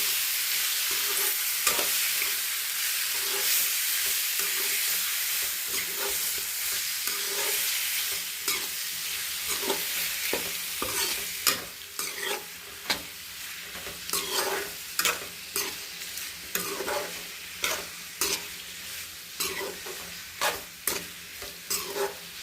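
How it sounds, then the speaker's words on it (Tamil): Goat liver fries in a pan, with a continuous sizzle underneath close, repeated scraping strokes of a spoon stirring it, the strokes becoming sharper and more frequent toward the end. "நல்லா கிளறி விட்டுக்கலாம்"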